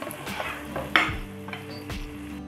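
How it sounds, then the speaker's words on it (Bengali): Pieces of fish fry in a pan under a steady sizzle while a spatula stirs and scrapes. A sharp metallic clink stands out over the hiss, followed by softer knocks, close up and with no talking. "মাছটা এখন কষিয়ে আসছে"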